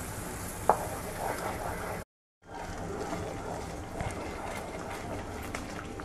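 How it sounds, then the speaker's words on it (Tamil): A spoon stirs semolina into cooked vegetables in a pan over low heat, a soft close scraping and gentle sizzle running continuously, briefly cut out for a moment. "கொஞ்சம் கொஞ்சமாக கட்டி விழாமல் ரவையை போட்டு கிண்டிட"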